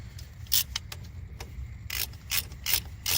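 A ratchet works a 14 millimeter brake line fitting on a 1995-2007 Ford Econoline during a front brake job, giving close clicking pawl bursts in uneven pulls, with no talk over it.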